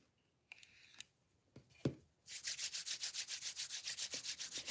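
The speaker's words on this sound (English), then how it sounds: "Now bring your palms closer in front of your chest and rub your palms" Palms rubbed briskly together during a yoga session, after a few faint soft touches, then a steady run of quick, even, close-up rubbing strokes in a fast rhythm with no talking.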